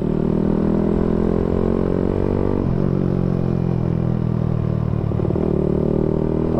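A Suzuki Satria FU motorcycle engine with an aftermarket silencer rumbles loudly and steadily up close, with a brief dip in pitch as the throttle is released and blipped again.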